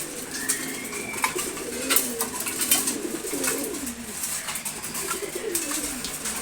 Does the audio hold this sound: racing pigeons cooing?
yes